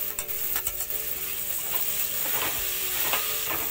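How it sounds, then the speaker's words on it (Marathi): Chopped onion and tomato sautéed in a pan over medium heat, a continuous sizzle broken by repeated scraping stirs of a spoon, up close and with no voices. "चांगला परतून घेऊया कांदा। आणि हा 1 टोमॅटो घेतलाय कापून, तो पण घालून घेऊया।"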